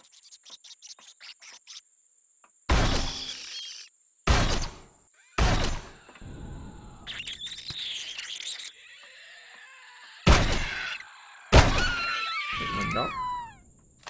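Shotgun blasts at scorpions in the survival game Empyrion, about five loud, sharp shots spaced irregularly, with screechy creature cries and a steady high electronic whine running underneath.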